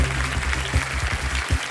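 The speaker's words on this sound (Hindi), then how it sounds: "तालियां बजती रहें इनके लिए एक बार फिर जोरदार" A television quiz show studio audience, on Kaun Banega Crorepati, claps in loud, sustained, steady applause with dense overlapping hand claps throughout.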